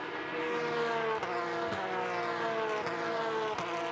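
Porsche Carrera Cup race cars battling in a pack at Indianapolis Motor Speedway, loud high-revving engines droning continuously with sharp gear-shift breaks, several cars audible together.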